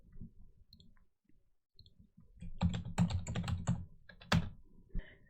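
Keys clicking on a computer keyboard as a command is typed into a Linux terminal on Ubuntu, a quick burst of close, crisp taps after a quiet start, ending with a firmer keystroke.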